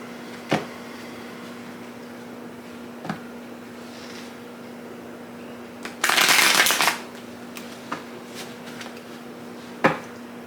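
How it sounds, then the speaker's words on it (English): Tarot cards being shuffled close up: one dense riffle burst lasting under a second, surrounded by scattered soft taps and clicks from handling the deck over a low steady hum. "I'm gonna do 3 shuffles."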